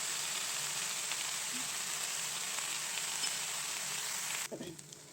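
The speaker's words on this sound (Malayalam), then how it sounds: "ഇഞ്ചി ഒന്ന് നന്നായി മൂത്തതിന് ശേഷം നമുക്ക് സവാള ഇട്ട് കൊടുക്കാം" Onions sautéing with ginger and a pinch of salt in a hot pan for a Kerala clam meat roast: a continuous close, even sizzle and hiss that cuts off abruptly near the end, with no voices.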